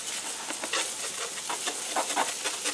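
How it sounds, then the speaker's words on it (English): A garden hose lightly sprays water over dirty steel predator traps, a steady hissing patter with small splashy bursts, close and continuous without speech. "just give these a light spraying"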